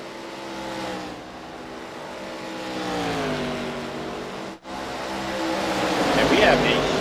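ARCA race cars racing in a sim racing game, a steady engine drone with rising and falling pitch as the pack runs, fairly loud and continuous with one brief dropout, under a commentator's talk.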